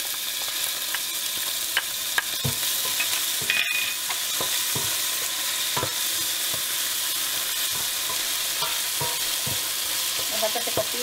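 Garlic, tomato paste and ají panca sizzle steadily in a hot pan, a continuous close frying crackle with occasional stirring scrapes and clicks, no voices.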